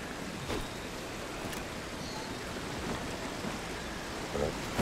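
Rushing waterfall in the video game Journey to the Savage Planet, a steady broadband roar of falling water that holds at an even level throughout, with a few faint thumps.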